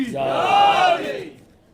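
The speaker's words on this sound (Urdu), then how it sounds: "نعرے حیدری، نعرے حیدری، نعرے حیدری، نعرے خیبری" A crowd at a religious celebration shouting the slogan Naara-e-Haidari in unison, one loud sustained collective cry that swells and fades within about a second and a half.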